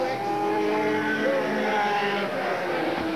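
A superstock race car roars down the main stretch at Eugene Speedway, a sustained engine tone heard from the grandstand area at moderate distance, with a crowd murmur and an announcer's voice underneath.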